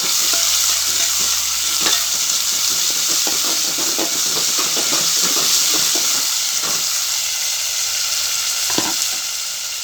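Mutton frying in oil for an old-style curry, a loud continuous sizzle broken by repeated scraping stirs of a spoon in the pan, with no one talking.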